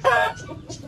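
An Aseel rooster gives a short, loud squawking cluck up close, followed by a couple of softer clucks.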